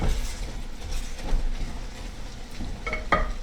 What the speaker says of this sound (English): Give this a stir now, too.